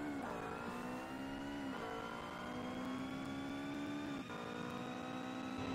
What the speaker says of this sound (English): This Ferrari has a much better sounding engine.